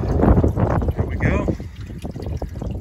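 Water from a white hose on a pasture riser gushes and splashes steadily once the valve opens, mixed with outdoor wind noise, while a person talks nearby.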